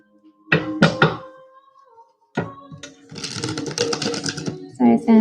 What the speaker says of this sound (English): Sorry, Sandra, taking a little longer to shuffle as I just kind of get into the jive here